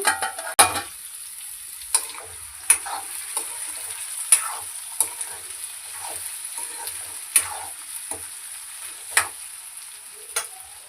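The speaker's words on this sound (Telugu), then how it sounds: "ఇలా మధ్య మధ్యలో కలుపుకుంటూ వేగనిద్దాం" Potato masala curry frying in a pan while being stirred now and then, a low steady sizzle punctuated by about ten sharp spoon clinks and scrapes against the pan, close and clear, no talk.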